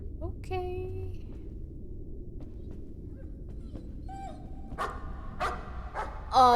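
Dog barking in the horror video game Layers of Fear, a few sharp barks and yips scattered over a low ambient drone, moderately near and growing louder toward the end.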